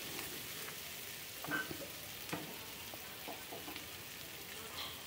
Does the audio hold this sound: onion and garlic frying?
yes